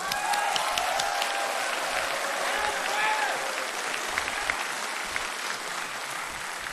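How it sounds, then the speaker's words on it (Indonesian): Applause from the audience at the 2014 Indonesian presidential and vice-presidential debate. A broad, steady wash of clapping fills the hall, gradually easing off slightly toward the end. "Kita berikan tepuk tangan kalau itu."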